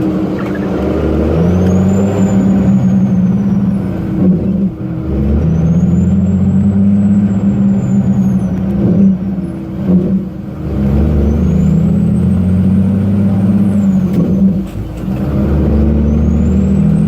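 A Freightliner truck driving up a flooded road roars loud and close with a deep, steady engine drone. Gear shifts cause brief dips, and faint high squeals recur over the engine noise.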